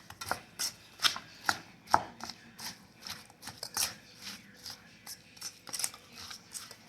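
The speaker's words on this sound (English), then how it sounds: "Now, we're going to give all of this a mix." Ingredients for a spaghetti dinner, including crushed black peppercorn, being mixed in a bowl: a run of uneven scraping and tapping strokes at close range, fairly quiet and without talk.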